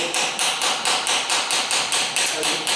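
A hammer strikes a chisel on hard stone in a steady run of about eleven sharp, evenly spaced ringing blows, close and loud, with no talking.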